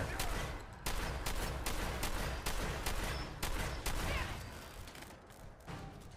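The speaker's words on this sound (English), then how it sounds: "Splatter cannon." A splatter cannon fires in the Fallout 4 video game, a loud, dense run of rapid blasts that pound steadily for several seconds and then thin out slightly toward the end, with no speech.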